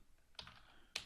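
Two crisp keystrokes on a computer keyboard, close and quiet, spaced about half a second apart with faint room hiss between.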